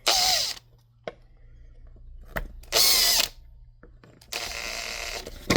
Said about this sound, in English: we're going to drill that spot there